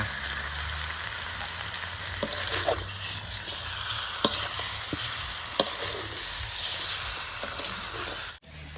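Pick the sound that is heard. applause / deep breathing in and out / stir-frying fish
stir-frying fish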